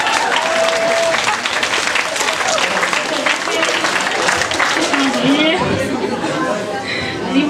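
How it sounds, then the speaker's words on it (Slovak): A school audience at a Gymnázium Myjava freshman initiation event applauds loudly and steadily, dense clapping mixed with crowd chatter and a few shouts throughout. "To si zaslúži veľký potlesk."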